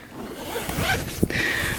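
Zipper on the vestibule of a Big Agnes Copper Spur HV UL1 ultralight tent being pulled open, a close, steady rasping slide with one sharper catch partway through.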